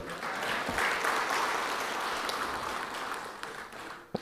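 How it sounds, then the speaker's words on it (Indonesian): Audience applause at an official government budget handover ceremony in an Indonesian provincial hall, a dense steady clapping filling the room for about four seconds before it fades out abruptly. "Tepuk tangan dulu lah."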